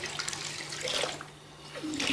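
A 12V DC brushless submersible mini water pump runs held under water, giving a steady rushing gurgle and splash of flowing water, close and moderately loud, with a faint low hum beneath.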